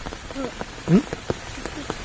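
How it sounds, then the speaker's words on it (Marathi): Heavy monsoon rain pours in Dahanu amid widespread flooding, a dense steady wash of falling water beneath someone talking close by. "पाऊस काही कमी नाही होत आहे जास्तच पावसाला सुरुवात झालेली आहे"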